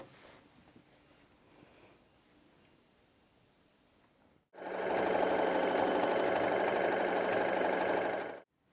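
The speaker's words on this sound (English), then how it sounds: "I'm going to sew the lining together in exactly the same way" A sewing machine stitches the lining of a hessian bag, a steady, close mechanical whirr running for about four seconds after a quiet stretch, then stopping.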